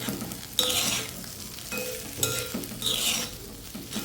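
Curry leaves drop into hot oil for an aloo fry, crackling and sizzling while a spoon stirs the pan with a few light scrapes, close and moderately loud.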